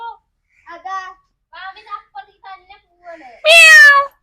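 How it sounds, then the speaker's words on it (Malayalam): A house cat gives one loud, close meow near the end, after several short bursts of children talking nearby. "പൂച്ച"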